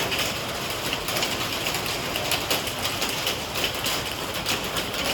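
Heavy monsoon rain pounds a metal-sheet terrace roof, producing a loud, dense, unbroken roar with no voices.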